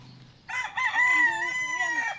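A rooster crows nearby, one long rising and falling call, with faint clucking from other chickens just before it.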